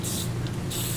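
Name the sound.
silicone spray sprayed onto lathe chuck parts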